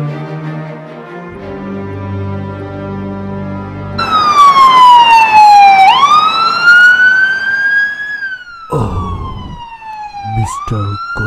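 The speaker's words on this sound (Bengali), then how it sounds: "গোলাম অ্যাম্বুলেন্সের ঘন্টা বাজিয়ে দিয়েছে।" An ambulance siren wails loudly and close, its rising and falling tone sweeping up and down repeatedly over the rumble of a vehicle, with brief gaps near the end.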